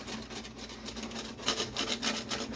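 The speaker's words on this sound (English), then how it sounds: "So I just got a little paint scraper and I just dip it in vinegar." A small paint scraper dipped in vinegar scrapes black spots off the inside of an oven, making quiet, rapid rasping strokes in an uneven rhythm, close up and without talk.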